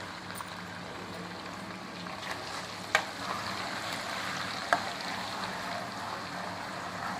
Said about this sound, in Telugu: ఆయిల్ కాగింది బావా. చికెన్ వేసుకుందాం, సగం వేసుకుందాం.